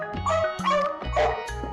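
A dog barks three or four times in quick, high-pitched yipping bursts, close and loud over a steady musical backing.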